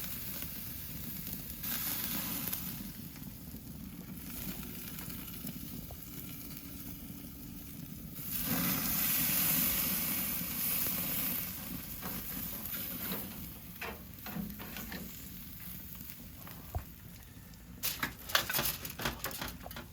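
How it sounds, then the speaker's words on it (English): Steady sizzling and crackling of prime rib searing in a hot pan, with a louder surge of hiss midway and a few sharp pops near the end. "sear each side for about a minute to minute and a half to get the surface sizzling"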